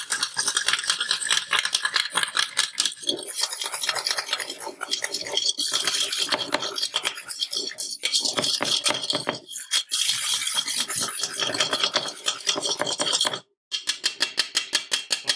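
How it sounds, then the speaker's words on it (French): A whisk beats sugar and eggs in a bowl for sweet tart pastry, a fast continuous metallic scraping and rattling against the bowl's sides, close and steady, with a brief pause near the end before the whisking resumes. "un fouet, et on va commencer à mélanger jusqu'à vraiment bien blanchir."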